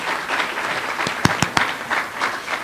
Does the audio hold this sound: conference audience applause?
yes